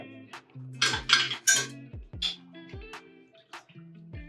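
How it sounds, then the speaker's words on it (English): A spoon clinks and rattles against the sides of a jug while blueberry tea is stirred, a run of close, ringing metallic and glassy knocks in an irregular rhythm, with no talk. "now I'm just gonna give it a little bit of a mix inside the jug"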